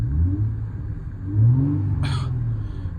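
A deep, throaty 2004 Chrysler Crossfire 3.2 V6 with stainless exhaust rumbling nearby, rising briefly in a rev before settling back to a steady growl.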